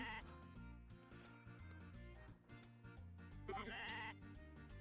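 A sheep bleats in the farming game Story of Seasons: A Wonderful Life, a short cry rising over gentle looping background music, with a second bleat near the end.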